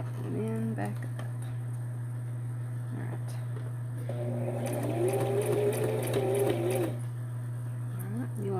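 A sewing machine stitches a fabric journal closure with a steady mechanical whir that swells mid-stretch and then stops. A person talks over it and a constant low hum runs underneath.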